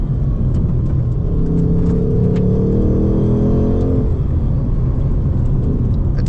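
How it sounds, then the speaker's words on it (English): A 2025 Ford Mustang Dark Horse V8 with a manual gearbox revs with a deep, loud rumble. A rising, throaty engine tone swells and then settles back into a constant heavy drone. "it's a lovely sound anyway. Like, it's proper V8 muscle"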